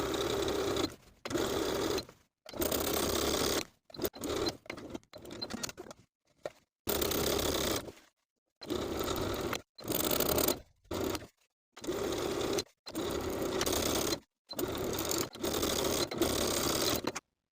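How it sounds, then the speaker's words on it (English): A sewing machine understitches a garment facing, stopping and backstitching partway through. Repeated runs of motor whir are broken by short silences, with choppy bursts where the stitching reverses, all close up and with no talking. "you can stop your stitching, backstitching to secure, and then continue the stitching on the other side of the point"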